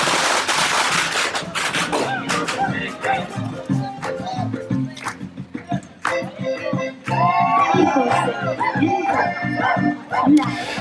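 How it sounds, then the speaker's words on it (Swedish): Firecrackers and fireworks go off at a crowded street fiesta, sharp cracks and rapid popping bursts in an irregular stream over a background of crowd noise and music, loud and fairly close. "Smällare och fyrverkerier bränns av."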